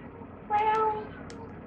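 A cat in the video game Murdered: Soul Suspect lets out a single clear, drawn-out meow over quiet game ambience.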